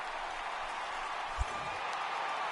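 A stadium crowd of over 39,000 at a Miami Marlins baseball game in MLB The Show 18 roars in a steady, broad wash of cheering, with a single soft thump partway through.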